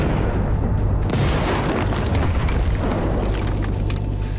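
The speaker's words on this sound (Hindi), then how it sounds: "इजराइल के प्रचंड प्रहार से भीषण विस्फोट हुआ" A heavy blast from an Israeli missile strike on Tehran, heard as a loud, continuous low rumbling roar that fills the whole stretch with dense, sustained noise and no voices.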